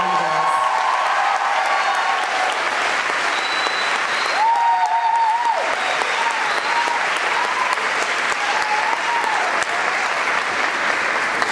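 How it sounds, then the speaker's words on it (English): New students at a university welcome event give their orientation leaders a long, loud round of applause with scattered cheers, steady dense clapping filling the hall while a brief tonal sound rises partway through. "please join me in giving them a round of applause"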